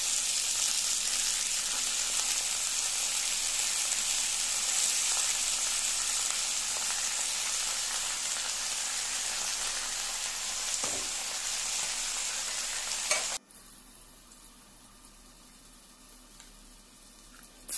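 Leafy greens tossed with salt hiss loudly and continuously in a hot pan, with a few soft stirring knocks, before the sizzle abruptly drops to a quiet background.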